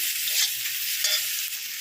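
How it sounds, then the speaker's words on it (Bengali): Sliced onions hiss and sizzle loudly in a kadai while a spatula stirs them in short, close scraping strokes. No one speaks. "কড়াইতে নাড়বো"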